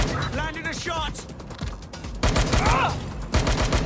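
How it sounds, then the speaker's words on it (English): Gunfire in Watch Dogs: Legion, bursts of sharp shots and mechanical clatter alongside a voice talking, with a louder volley in the second half. "Careful! Shots fired!"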